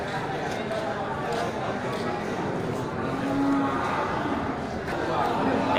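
Aceh cattle at a livestock market give a brief low moo amid a steady crowd murmur, with people talking in the background.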